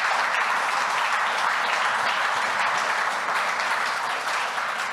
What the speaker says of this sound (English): I'd like to ask if you could all give them one huge round of applause.